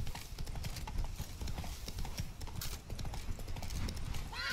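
Horse hooves clip-clop steadily in The Witcher 3: Blood and Wine, a brisk continuous rhythm of close, clear hoofbeats over ambient game sound, with a short whinny near the end.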